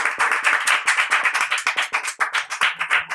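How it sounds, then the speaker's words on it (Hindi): A crowd claps in welcome as a leader takes his seat at a village political gathering, with close, rhythmic clapping of a few hands in quick repeated bursts and no speech over it. "तालियों के साथ स्वागत के"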